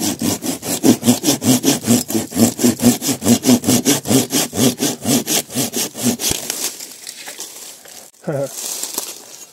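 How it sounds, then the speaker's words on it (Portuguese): A hand saw cutting through wood outdoors near a spring, with steady rapid back-and-forth strokes for about six seconds before the sawing stops and a brief crack follows. "O que eu serrei quebrou aqui, ó."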